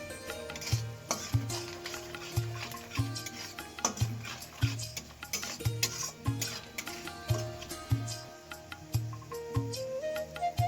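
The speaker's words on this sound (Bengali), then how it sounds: "এবার নাড়তে থাকবো।" A spoon scrapes around a pan, stirring turmeric, chili and cumin powder before leftover rice is added for fried rice. The strokes are rhythmic and repeated, close by, with a soft sizzle underneath.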